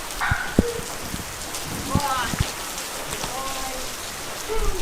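Heavy rain pours down steadily with scattered sharp drops striking close by, while a few brief voices sound through the downpour.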